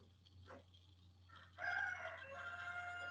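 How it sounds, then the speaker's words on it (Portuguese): A rooster crows in the distance, its drawn-out call rising partway through and holding to the end, faint behind low background hum in an indoor setting. "O galo tá cantando, gente."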